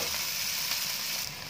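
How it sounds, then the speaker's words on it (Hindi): Onion and garlic sizzle in hot oil for a mango chutney, a steady dense frying hiss that holds evenly throughout, close and moderately loud with no voices. "अब इसमें डालते हैं प्याज और लहसुन को भी डाल देंगे। सुनहरा होने तक फ्राई करेंगे इसे।"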